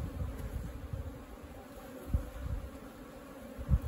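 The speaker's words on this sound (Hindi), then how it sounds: "मधुमक्खियाँ अंदर जाना शुरू हो चुकी है, अंदर बाहर निकल रही है" Honeybees buzz around a hive box as they stream in and out after being moved into it, a low continuous hum with scattered louder passes of individual bees close by.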